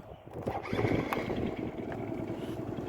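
A T-40 AM tractor's diesel engine turns over and catches, settling into a steady, close, rumbling idle with a fast pulsing beat that holds for a few seconds.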